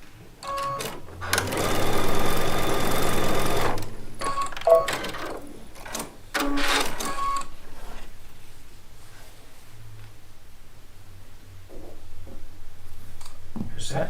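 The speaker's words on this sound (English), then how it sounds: "now we're going to sew these other 3 pieces onto our rows" A sewing machine stitches charm pack quilt pieces onto rows in a steady, loud run lasting a couple of seconds, followed by quieter handling and brief bursts of sewing, with some talk in between.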